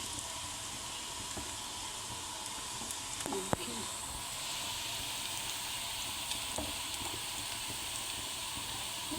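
Pakoras frying in hot oil for Punjabi-style kadhi pakora, giving a steady, close sizzle and hiss throughout with a single sharp click partway through; no one speaks.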